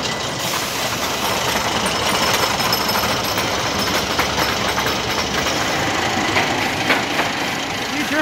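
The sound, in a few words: roller coaster lift motor running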